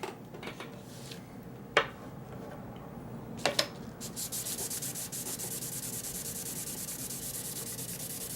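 A Cold Steel Large Lawman knife is rubbed with 1500 grit sandpaper, a fast, even rasping stroke that starts after a few sharp knocks and clicks, close and steady.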